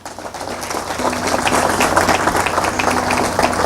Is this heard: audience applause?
yes